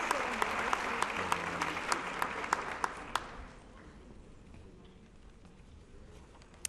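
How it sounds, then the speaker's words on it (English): Audience clapping for winners at the 2013 Lockheed-Martin Science Fair awards ceremony, a loud burst of applause with sharp individual claps that fades into quieter room noise about halfway through. "Let's give them applause."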